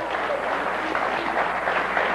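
A studio audience at a talk show with pro wrestlers applauds throughout. The clapping is even and continuous at moderate volume with no talk over it.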